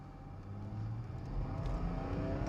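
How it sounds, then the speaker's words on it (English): A stock Mercedes W210 diesel car accelerating hard in a 0-60 run, its low engine rumble swelling steadily louder and rising in pitch, heard alone without speech. "Right, so we're ready for the 0 to 60 test in the totally stock 210."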